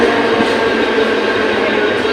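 A local train arriving at a platform rumbles steadily close by, a continuous loud mechanical roar with rail noise and no voices.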